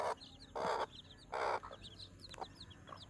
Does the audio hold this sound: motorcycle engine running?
no